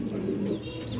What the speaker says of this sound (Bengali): আমরা এই মুহূর্তে দেখতে পাচ্ছি এখানে আরো এক জোড়া কবুতর